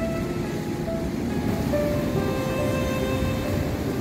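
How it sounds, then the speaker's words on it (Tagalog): Sea waves wash near a beach resort pool, a steady broadband surf rumble with some wind noise on the microphone, continuous and moderately loud with no speech. "Malapit na sa dagat."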